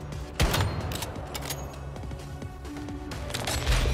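Gunfire from the video game Once Human comes as repeated sharp shots and short bursts, some close and punchy, spread unevenly over a low rumbling background, with no talking.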